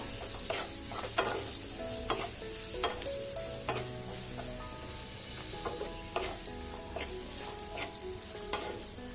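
Egg biryani mixture frying in a pan as chilli, turmeric and salt are stirred in: a constant soft sizzle under regular scraping strokes of a spoon, close and moderately quiet, with no voices.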